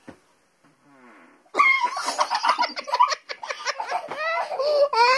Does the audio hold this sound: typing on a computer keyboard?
no